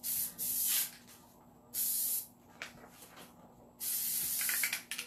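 An aerosol spray can hisses over a garbage can in three bursts of about a second each, separated by short gaps, close and clear over a low steady hum.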